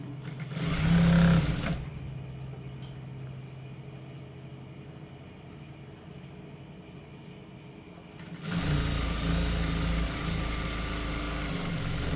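A sewing machine stitches a folded half-inch hem on a salwar pant, its motor whirring loudly in a short burst, dropping to a quieter hum, then running steadily again. Nobody speaks.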